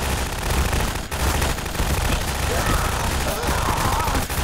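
Gunfire sound effect in a minifig animation, rapid dense bursts of shooting running continuously and loudly, mixed with a voice in the scene.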